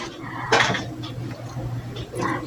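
A spatula scraping and clinking on a hot tawa griddle as a fasting-style thalipeeth flatbread is turned over, two sharp metallic clatters with light scraping between them.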